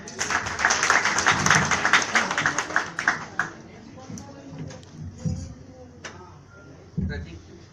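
Audience applause at a newspaper's foundation day celebration, a burst of clapping that fades over several seconds, with a speaking voice and scattered later claps.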